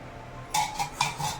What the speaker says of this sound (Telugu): స్టవ్ ఆన్ చేసుకొని కుక్కర్ పెట్టుకొని ఇందులో ఒక స్పూన్ ఆయిల్ వేసుకోవాలి